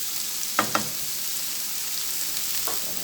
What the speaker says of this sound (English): just gonna stir these on medium heat